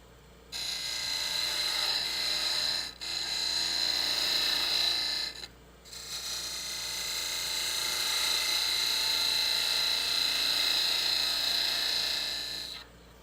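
Wood lathe turning the side wall of a suction-fit lidded box, a steady high whine with a cutting hiss in three long passes broken by two short pauses, close and fairly loud with no talk.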